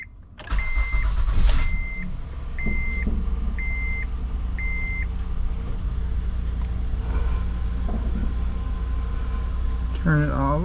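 Honda Odyssey engine idling steadily after a power steering pump replacement, a loud start then a continuous low hum, with repeated dashboard chimes early on and a brief squeal near the end as someone talks.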